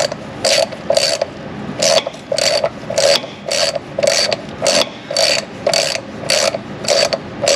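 A ratchet works a 10 mm brake caliper bracket bolt on a Chevy Silverado 2500 HD, giving bursts of close, crisp clicking in a steady repeating rhythm with short pauses between strokes.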